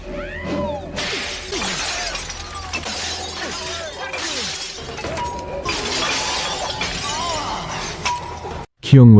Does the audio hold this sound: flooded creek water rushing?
no